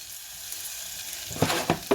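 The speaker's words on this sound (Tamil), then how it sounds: "எல்லாம் போடுறேன் பாருங்க கடுகு சின்ன சீரகம் கொஞ்சம் பெருஞ்சீரகம்" Mustard seeds, cumin and fennel seeds hit hot oil in a pan, a soft steady sizzle that breaks into sharp crackling pops near the end.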